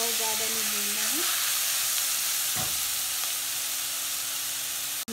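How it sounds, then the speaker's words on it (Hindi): Grated mango is lightly fried in a pan for mango pickle, a steady close sizzle and hiss that holds evenly from start to finish before cutting off abruptly. "अब इसमें आप आम डाल लीजिए, आम कद्दूकस किया हुआ आम, इसको डाल कर थोड़ा सा हल्का सा ही भूनना है"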